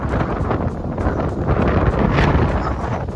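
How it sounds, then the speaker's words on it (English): Strong wind buffeting the microphone in a loud, rumbling, continuous roar with gusty swells and no speech. "It is so windy"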